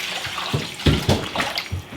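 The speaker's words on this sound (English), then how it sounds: "I'm going to fill this up about 3 times to add my water." Filtered water from a countertop gravity filter splashing into a quart glass jar, a close, loud pouring with uneven gurgling bursts through the short stretch and no voices over it.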